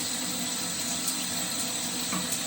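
Steady running water from a shower pouring continuously while someone washes, a constant broadband hiss close by with no talking.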